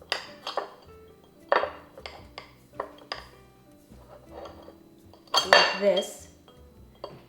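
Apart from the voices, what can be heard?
flattening a vanilla bean with the back of a knife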